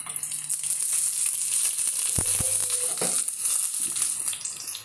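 Chopped shallots and dried red chillies sizzling in hot oil for a pineapple chammanthi, a steady bright frying hiss with stirring scrapes and a couple of clicks partway through.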